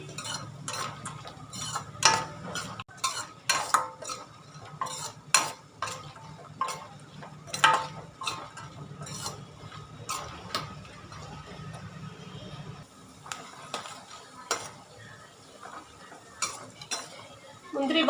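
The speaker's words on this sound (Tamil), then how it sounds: "நம்ம வந்து இந்த அல்வாவுக்கு தேவையான பாதாம் முந்திரி இதில் போட்டு வறுத்து" Almonds and cashews are roasted in melted ghee for bread halwa while a spoon stirs and scrapes the pan, giving irregular sharp metallic clinks and taps over a soft frying background.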